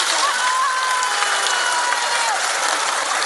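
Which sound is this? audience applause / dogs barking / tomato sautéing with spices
audience applause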